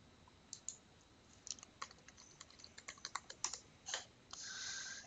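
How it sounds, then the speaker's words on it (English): A password is typed on a computer keyboard, a quiet run of separate key clicks in an uneven rhythm, ending in a slightly longer held press, with no talking. "apparently I typed in my password wrong the first time"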